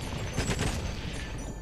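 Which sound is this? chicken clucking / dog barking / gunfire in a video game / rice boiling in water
gunfire in a video game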